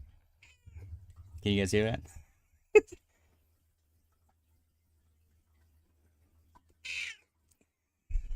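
A cat meows once at close range in a home, a short rising call, with a person talking briefly just after and a faint second sound later.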